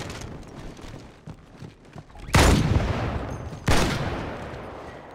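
Video game gunfire in Halo 2: a steady clatter of automatic shots runs throughout, broken by two loud, close bursts that boom out and decay, with no talking.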